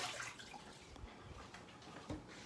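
A refrigerator water dispenser sputtering as air passes through a newly changed filter, a faint, uneven hiss of water and air with a couple of small spurts, heard close up without speech.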